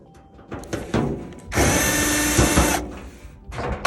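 Power drill whirs steadily for about a second, backing screws out of a panel on a Frigidaire gas dryer, with short clicks and handling knocks of the loosened panel before and after.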